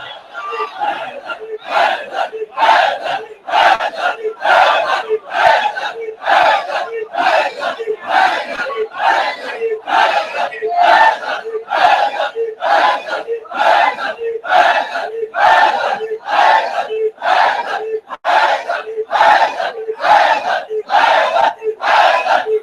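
A large crowd at a Muharram majlis chants the slogan "Ali Ali" in a steady, loud, rhythmic call repeated about two dozen times, each shout evenly spaced and filling the hall.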